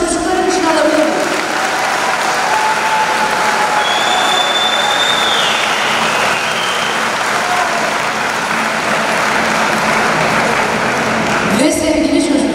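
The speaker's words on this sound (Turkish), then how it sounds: "Bir kocaman alkış da çocuklarım için alabilir miyim?" A school crowd applauds at a Turkish primary school ceremony marking fourth graders' move to the next level. The loud, dense clapping holds steady for about twelve seconds, then eases off right at the end.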